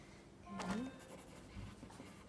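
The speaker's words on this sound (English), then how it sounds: "I'm going to put my name on the back" Pen or pencil writing a name on the back of a sheet of white or construction paper, a short scratchy stroke sequence, close and quiet, with a brief voice nearby.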